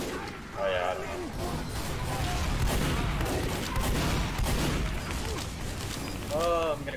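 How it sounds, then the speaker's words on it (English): Rocket explosions in Team Fortress 2 as a soldier rocket jumps nearby, heavy booming blasts rolling one after another under dense game noise, with a voice talking over part of it. "Oh, I'm getting rocket jumped on."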